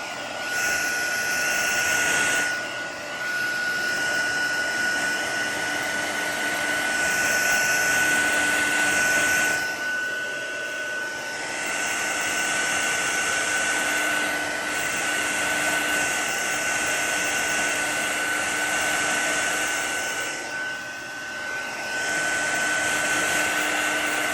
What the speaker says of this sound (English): Do the heat tool one more time.